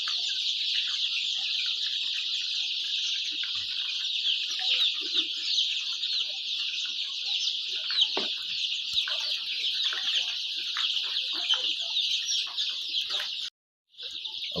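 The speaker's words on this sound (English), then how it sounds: "And these are the birds taking their vaccine this morning." Poultry at a farm cluck and chirp in a dense, constant chorus, many birds at once, loud and unbroken apart from a brief cutout near the end.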